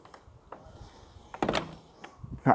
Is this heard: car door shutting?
yes